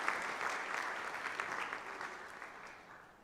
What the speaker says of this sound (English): Please give them a big hand clap.